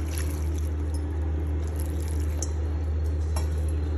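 Water is poured into a cooking pot holding washed gongura (sorrel) leaves for dal, a steady, even rushing and splashing stream that runs continuously at close range.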